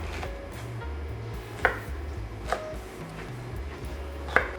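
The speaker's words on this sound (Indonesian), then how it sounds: "Terus sama yang warna merah juga kita akan potong-potong." A kitchen knife chops red bell pepper into squares on a cutting board for shashlik meat skewers, giving three sparse, sharp knocks spread over a few seconds against a quiet room.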